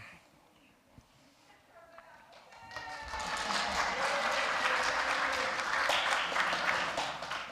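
In a church service, a quiet room with a few faint taps swells into warm congregational applause for children seated on the stairs, a broad steady clapping that builds and holds to the end.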